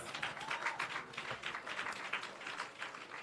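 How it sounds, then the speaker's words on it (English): A crowd at a World Milk Day event in Jamaica applauds steadily, with dense, even clapping from many hands throughout. "I'm sure he deserves a rousing round of applause."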